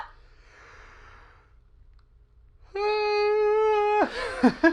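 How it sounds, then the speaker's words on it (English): A drawn-out, wavering yawn-like sound from an animal, rising and then breaking off into a few short breathy snorts, close and fairly loud. "you blew the whole yawn into my face"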